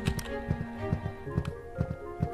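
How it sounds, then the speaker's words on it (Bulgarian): Horse hooves clip-clop in a video game, with a steady, fairly close trot of evenly spaced hoofbeats over a faint background hum. "О, конче!"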